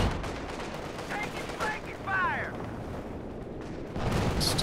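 An artillery barrage rumbles in Company of Heroes 2, a World War II strategy game, with fairly faint distant booms and gunfire layered over continuous battlefield noise.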